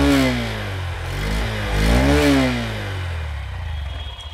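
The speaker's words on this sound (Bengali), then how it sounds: "আর তোমাদেরকে যদি আমি এক্সস্ট সাউন্ডটা এবার শোনাই" A Honda Livo 110 motorcycle idles just after starting, its exhaust giving a steady low putter that swells in two brief revs before settling back to a smooth, fairly quiet idle close to the microphone.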